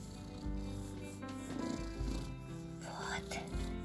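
A pregnant cat purrs in a steady low rumble, close and continuous, with someone speaking over it and music-like tones underneath.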